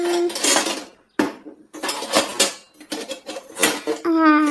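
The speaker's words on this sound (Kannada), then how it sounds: "ಪಾತ್ರೆ ತಡಿ, ಇಲ್ಲಿ ತೊಳೆದಿಟ್ಟಿರೋ ಇದ್ರಾಗ ಆಯ್ತಾ ನೋಡ್ತೀನಿ" Washed metal pots and dishes clank and clatter in bursts, close by, as someone rummages through them for a tea pot, with a short pause partway through and a brief voice near the end.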